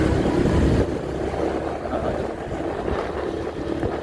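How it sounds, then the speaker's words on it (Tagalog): A motorcycle engine drones steadily while riding on the way to a highway, heard close as a continuous rumble mixed with heavy wind buffeting the microphone, no talk. "Parang malalaglag na yung makina."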